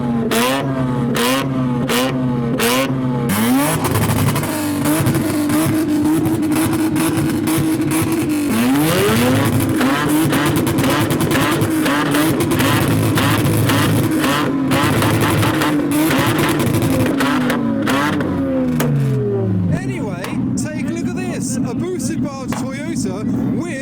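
A rotary-engined car leaving a car meet revs loudly and up close, its engine note rising and falling through repeated throttle blips and sustained revs, with voices faintly in the background.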